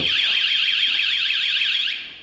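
A VanGuardian campervan anti-theft alarm screams with a loud, rapidly warbling high-pitched siren. It holds steady for about two seconds, then cuts off.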